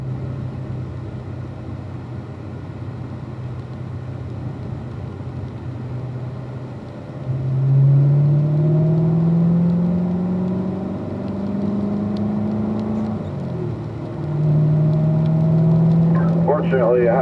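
Race car rolling out onto a track on its first lap to warm the drivetrain, a steady low engine drone that swells into rising, revving gear pulls, close and continuous with no talk over it.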